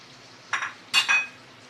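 Brinjal being stirred into oily masala in a pan, two short scraping stirs with a soft sizzle, close and fairly quiet, with no talk.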